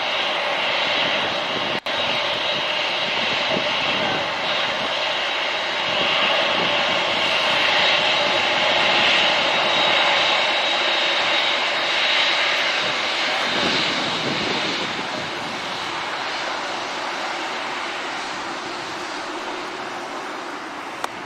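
Boeing 747 jet engines roar loudly and steadily at close range as the aircraft turns, a broad rushing whine that eases slightly toward the end.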